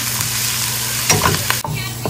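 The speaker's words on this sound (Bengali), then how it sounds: "অনিয়ন আর গার্লিকটা মোটামুটি ভালো ভাজা হয়ে গেছে।" Onion and garlic fry in a pan with a bright, steady sizzle, near and fairly loud, broken by several stirring scrapes and a clatter, with no talk.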